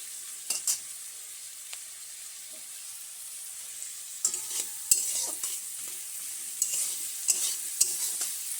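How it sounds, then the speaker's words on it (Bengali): Salted onions frying in a pan toward a reddish brown, a soft, even sizzle with occasional sharp clinks and scrapes of stirring spread across the clip, no voices. "পেঁয়াজগুলোকে লাল লাল করে ভাজবো"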